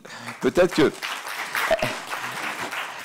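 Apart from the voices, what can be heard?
audience applause for honoured guest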